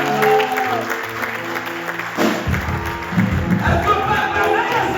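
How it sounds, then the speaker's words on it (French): A church congregation applauds and cheers in worship, dense clapping and voices filling the room at moderate loudness for several seconds, with a lower rumble of crowd noise swelling midway. "On va acclamer le Seigneur."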